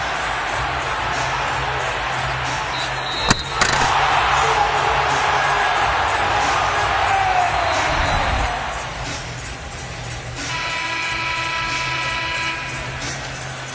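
A basketball arena crowd in an NCAA men's game between Wagner and Missouri roars loudly and continuously, with a sharp spike partway through. The cheering gradually eases, then swells again near the end.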